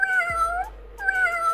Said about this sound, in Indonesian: Suara meong.